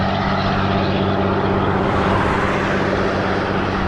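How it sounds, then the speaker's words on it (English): A semi truck roars past loudly on a highway lane, a dense, steady engine and road drone with a low throbbing hum that swells slightly mid-pass, no talking over it. "that truck sounds scary as hell"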